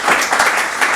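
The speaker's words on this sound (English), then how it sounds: "A round of applause for that, please." Audience at a Connecticut environmental awards ceremony gives a short, loud round of applause, many hands clapping together in a brief burst.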